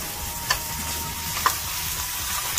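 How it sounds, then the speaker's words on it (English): Garlic and shallots stir-frying in olive oil give a steady, close hiss and sizzle, with a couple of brief scraping stir clicks and no talking. "So stir fry with olive oil the garlic and shallots."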